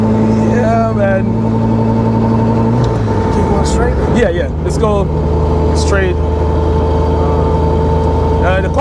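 A turbocharged Toyota Corolla AE86 with a 4AGE engine hums steadily while driving, its engine note shifting partway through, with people talking inside the car over the motor.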